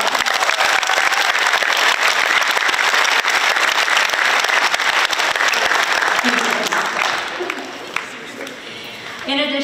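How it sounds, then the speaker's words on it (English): Audience applause at a graduation assembly, a loud, dense burst of clapping that thins and fades toward the end, with a few isolated claps and a voice starting up as it dies down. "So I'll give them another round of applause."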